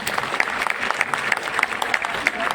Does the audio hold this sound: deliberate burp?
no